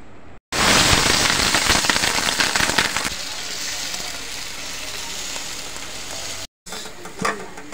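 Rotis frying in a pan in a village kitchen, a loud, steady broadband sizzle that starts abruptly, holds for several seconds, then cuts out briefly before a quieter tail.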